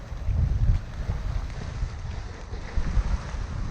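A sailboat out on open water in strong wind, with steady wind rumble buffeting the microphone and splashing waves and hull noise, loud and continuous throughout with no voices.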